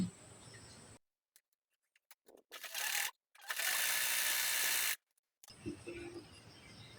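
A sewing machine stitches a single-colour fabric collar blouse in two quick whirring bursts of mechanical clatter, set between quieter stretches of handling noise and brief near-silence.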